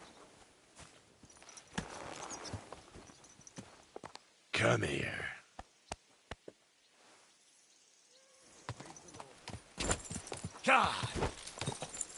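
Horse hooves clip-clop in the Kingdom Come: Deliverance II video game, a few sparse, quiet footfalls among scattered clicks, with someone speaking briefly and a louder rustling burst in the middle.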